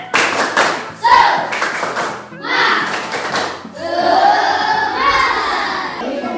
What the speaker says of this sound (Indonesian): Sekarang ayo kita tepuk semangat sebentar biar kita tambah semangat, ya.